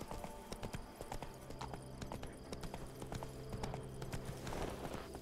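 Horse hooves clip-clop in a quick, steady trot in the video game The Witcher 3, crisp repeated knocks at moderate distance with faint background ambience.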